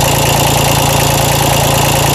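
A 1993 Toro Groundsmaster 325d mower's Mitsubishi K3D diesel engine running steadily at idle, a loud, close, continuous clattering rumble with an even pulsing knock.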